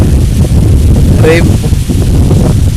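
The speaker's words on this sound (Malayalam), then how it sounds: "എല്ലാ കാറ്റുമുണ്ട്" Outdoors on a walk near water, wind buffets the microphone in a loud, low, rumbling roar that runs throughout, with a brief faint voice-like sound partway through.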